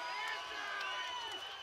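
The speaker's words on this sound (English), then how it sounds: "The crowd surging behind the Australian world title challenger" A crowd roars and cheers steadily at an IBF cruiserweight world title boxing fight between Jai Opetaia and Mairis Briedis, a dense, continuous wash of voices with no pauses.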